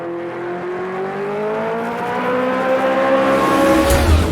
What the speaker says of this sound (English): rolling out of the pits here at Silverstone in the BT49